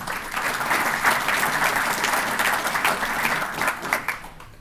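Audience applauding at the grand opening and ribbon cutting of the Quail Ridge South golf course, a steady burst of dense clapping from a crowd that carries through without a break and swells slightly toward the end.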